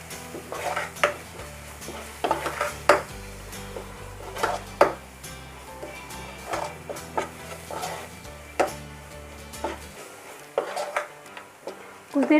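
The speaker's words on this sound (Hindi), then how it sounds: "कुछ देर के लिए मसाले को लो फ्लेम पे इसी तरीके से लगातार चलाते हुए भून लेंगे।" A spatula scrapes and clinks against a pan as paneer masala with crushed kasuri methi is stirred and roasted over a low flame, giving repeated rhythmic scraping knocks over a faint low sizzle.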